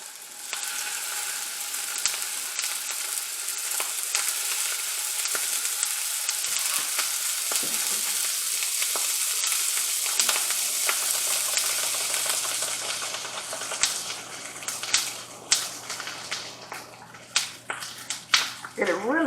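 Meat or fish sears in hot oil in a pan with a steady close sizzle and crackle, sharper pops and scraping clicks growing toward the end, while a person talks quietly underneath.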